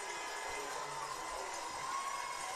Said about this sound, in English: the Gator fans cheer on the defense for having a big play right there